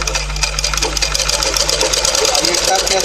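A sewing machine runs steadily while stitching a blouse, with a continuous whirring hum under a voice speaking throughout.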